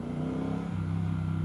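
A motorcycle engine idles and revs steadily on a vintage-styled ride, a loud continuous low mechanical drone with a slight dip in pitch partway through, close up and with no voices.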